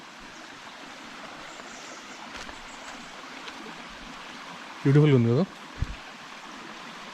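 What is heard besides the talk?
waterfall flowing in forest near Gokarna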